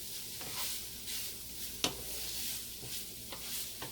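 Meat browning in a home kitchen pan sizzles steadily at close range, broken by soft scraping stirs and one sharp clink of a utensil against the pan partway through.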